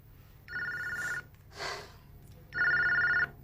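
An indoor telephone rings in two long trilling bursts with a pause between them, the second burst louder, and a brief breathy sound falls in the gap.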